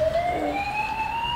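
A toy steering wheel plays an electronic fire engine siren: a thin, steady tone gliding slowly upward, clear and unbroken at moderate volume, with no voices over it.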